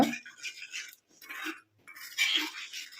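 A spoon scraping and clinking in a bowl while henna leaf and senna powder are mixed. The strokes come in short bursts separated by brief pauses, close and fairly clear.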